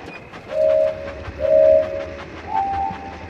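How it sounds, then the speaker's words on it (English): Thomas the Tank Engine running on tracks in a mobile railway game, with a rumbling chug that swells and fades in three waves, each topped by a steady whistle-like tone, loud and close. "Swipe left or right to keep the train on the tracks."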